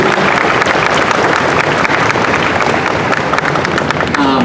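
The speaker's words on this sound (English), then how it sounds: "Yeah, applause. Let's do that." A convention panel audience at MomoCon 2017 breaks into loud, sustained applause, a dense steady wash of clapping from many hands that holds for several seconds.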